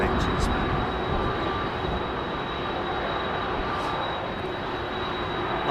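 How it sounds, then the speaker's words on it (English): Airplane engines roaring at London Heathrow Airport, a steady broadband jet rumble with a thin high whine throughout, loud and continuous. "I just want to listen to those beautiful engines"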